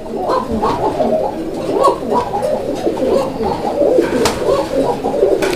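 White Bombay pigeons, a breeding pair, coo steadily in repeated throaty rolling calls, close and fairly loud, with several overlapping voices and no talk.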